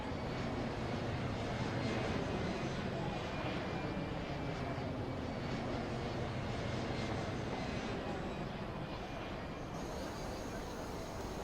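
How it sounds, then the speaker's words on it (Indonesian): A squadron of airplanes arriving over Tanjung Priok harbour gives a continuous droning roar buried in heavy hiss, steady and fairly distant throughout. "Sebuah skuadron pesawat terbang datang menyambut"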